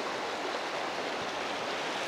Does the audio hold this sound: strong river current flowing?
yes